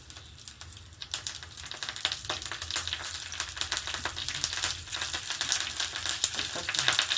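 Mustard seeds, cumin and curry leaves fry in hot oil for a pumpkin palya, a steady close sizzle with dense crackling and popping that holds throughout, with no talk.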